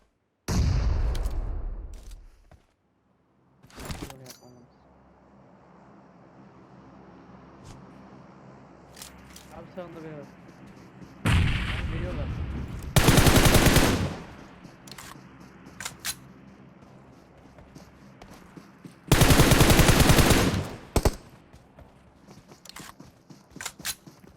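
Gunfire in the mobile battle-royale game PUBG Mobile, heard as a few loud bursts of shots standing out against quieter game ambience.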